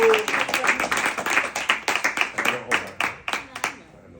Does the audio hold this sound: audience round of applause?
yes